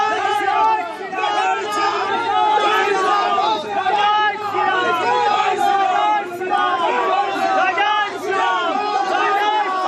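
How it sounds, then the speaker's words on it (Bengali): Rival BJP and TMC supporters chanting slogans at a crossroads market rally in Kotulpur, Bankura, a loud, dense crowd of shouting voices in rhythmic waves, with overlapping calls and chatter throughout. "মিছিল কতুলপুর বাজারে চৌরাস্তা মোড়ে পৌঁছতেই তুমুল স্লোগান যুদ্ধ"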